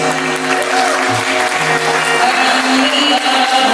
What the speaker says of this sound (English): please first time, round of applause, please